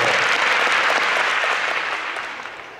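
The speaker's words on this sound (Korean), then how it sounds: "큰 박수 부탁드리겠습니다." A concert audience applauds in a dense, loud wash of clapping that slowly fades toward the end, with no voices over it.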